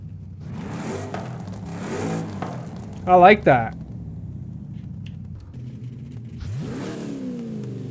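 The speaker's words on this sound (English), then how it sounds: "That sounds like a real Chevy exhaust. A real GM product." A Chevy car in the video game Forza Horizon 5 idles with a deep aftermarket exhaust burble, then revs up in several bursts; someone speaks briefly between revs.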